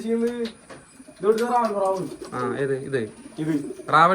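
Pigeons perched on a stand give low, repeated coos close by, with voices heard alongside the calls.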